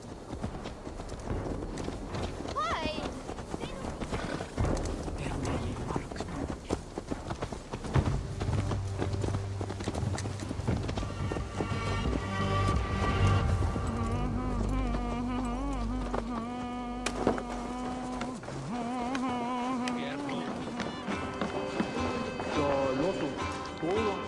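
Hooves clip-clopping on ground in a video game, a steady rhythmic patter running under game speech and ambient music, with a low insect-like buzz in the background.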